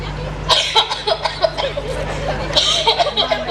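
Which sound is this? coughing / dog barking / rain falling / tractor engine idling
coughing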